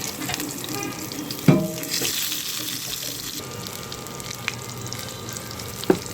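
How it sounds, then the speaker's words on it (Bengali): Eggplant slices coated in rice flour, salt, turmeric and chili powder frying in hot oil, a steady sizzle with a couple of sharp clatters of utensils, near and fairly quiet, with no talk. "এখন বেগুনগুলো ভেজে নিব, তেলটা গরম হয়ে এসেছে।"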